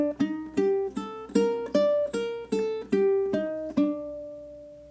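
A five-note Japanese pentatonic scale plucked on ukulele, about ten clear, evenly spaced notes that step along before the last one rings out and fades, close and alone with no talk.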